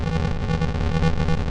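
Bit-crushed synth tone in Loopy Pro feeding into a reverb, a gritty, distorted sustained sound with a steady pulsing texture and a washy tail, heard alone and moderately loud.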